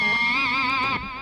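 A sustained, distorted guitar tone rings out through a delay effect, with a wavering, repeating echo that drops off near the end.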